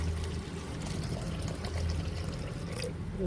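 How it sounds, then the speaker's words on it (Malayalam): Water is poured into a cooking pot while preparing a Kerala-style para fish curry with kudampuli, a steady close pour with trickling and splashing that runs continuously without speech. "ആവശ്യത്തിനുള്ള വെള്ളം കൊണ്ടൊഴിച്ചു"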